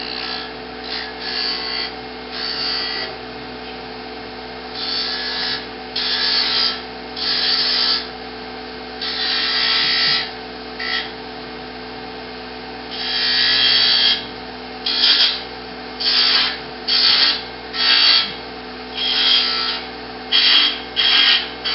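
A wood lathe spins while a detail gouge cuts a small finial, with bursts of bright scraping and cutting that come in short, repeated passes over a steady motor hum, close and fairly loud.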